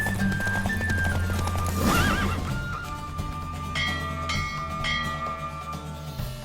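Rapid hoofbeats of a galloping horse with a whinny during a horse race in The Witcher 3, over steady game music with chiming tones; continuous and fairly loud.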